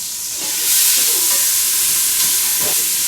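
Food sautéing on a flat-top griddle for a steak and egg breakfast, giving a steady, fairly loud broadband sizzle with a few brief scraping or stirring touches and no talking.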